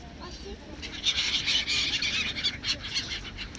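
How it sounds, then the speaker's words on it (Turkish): Several gulls being fed chips squawk and cry in short bursts at moderate distance, overlapping calls over a soft outdoor background. "Yaramaz martılar."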